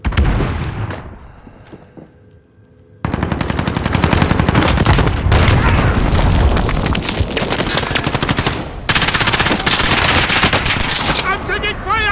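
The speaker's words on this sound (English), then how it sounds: "I'm taking fire." Automatic weapon fire in Call of Duty Modern Warfare Warzone, loud sustained bursts after a quieter opening three seconds, continuing almost without pause to the end with brief breaks and distant echoing shots.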